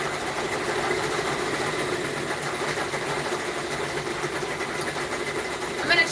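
A Brother-compatible 6 or 10 needle multi-needle embroidery machine stitches steadily with a continuous mechanical hum and rapid needle chatter, fairly loud and constant throughout, with a brief sharper clatter near the end.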